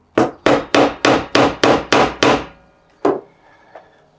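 Seven sharp, evenly spaced metal hammer blows from a small kit hammer driving a punch, loud and close, followed by a lone heavier strike after a pause and a faint tap.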